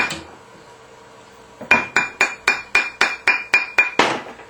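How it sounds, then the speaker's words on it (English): A metal dress ring with a new shank is tapped on a steel triblet. After a quiet start come about ten sharp, ringing metallic taps in an even rhythm, each with a short bright decay, close and clear with no talking. "Pop it onto the triblet. Taps."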